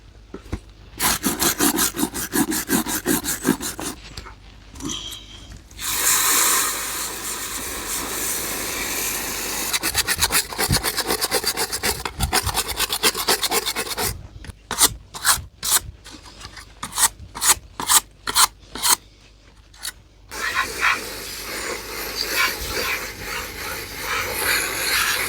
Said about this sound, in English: The old trusty wire brush.